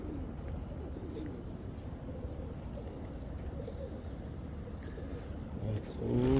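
Pigeons coo softly and continuously on the open, clean grounds of Jabal e Rehmah, a low steady murmur of birds with faint traffic and a car passing near the end.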